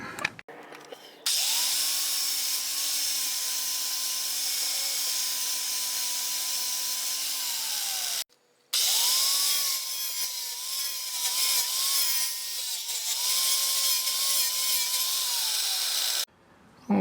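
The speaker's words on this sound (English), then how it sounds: "I'm going to switch to a wire wheel here and going to clean up the metal as best I can." A power tool spins a wire wheel against metal to clean it before welding, making a sustained high whine with a steady hum. It runs in two long bursts separated by a short pause.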